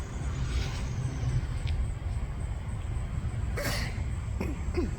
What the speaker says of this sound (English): Oh, you scared it with your sneeze.